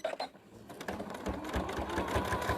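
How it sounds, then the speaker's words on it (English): A sewing machine runs a single-needle line of stitching down the center of a fabric bag, a steady close mechanical whir that starts after a short pause and continues with a rapid, even rhythm, with no one talking. "I'm just doing one stitch down the center of it, just a single needle."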